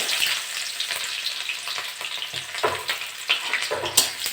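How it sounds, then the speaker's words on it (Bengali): Onions sizzling and frying in a pan of hot oil with cumin and dry chillies, a steady close crackle with scraping stirs throughout. "আমি এবার পেঁয়াজ দিয়ে দেবো"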